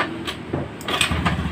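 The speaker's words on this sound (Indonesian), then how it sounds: "Nah, ini motor sudah hidup." A Honda Beat FI scooter's engine catches and settles into a steady idle, close by and moderately loud, with a few clunks from someone handling the bike.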